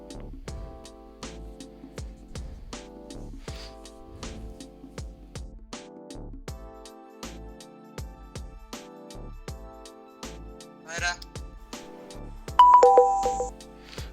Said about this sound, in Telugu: స్టార్ట్ చేయగానే ఇది ఎట్ ఏ టైం అందరికీ రింగ్ అవ్వడం స్టార్ట్ అవుతుంది